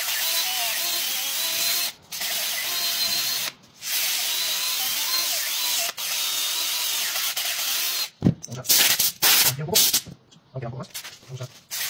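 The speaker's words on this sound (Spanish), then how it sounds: "Tenemos que lijar bien, ¿vale? Cogemos una lija" Harsh, hissing abrasive scraping of sandpaper on a wooden sofa leg, repeated in long strokes with brief pauses, then shorter choppy rubs toward the end.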